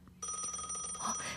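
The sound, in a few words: telephone ringing, incoming call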